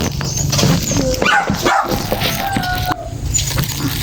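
A dog barks repeatedly nearby on a farm, sharp yips mixed with whimpering, over a background of morning ambience.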